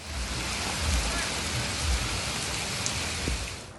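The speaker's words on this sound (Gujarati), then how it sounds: "લોધિકાના ચાંદલી ગામે ધોધમાર વરસાદથી ખેતરોમાં જળબંબાકારની સ્થિતિ સર્જાઈ" Heavy monsoon rain pours down in a steady, dense roar, continuous and close throughout, in Chandli village, Lodhika, Rajkot, Gujarat, flooding the fields.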